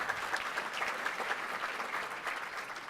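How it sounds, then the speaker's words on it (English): An audience at a cultural diversity awards evening breaks into applause, a steady wash of many hands clapping at moderate loudness from across the room. "Yes, we should applaud."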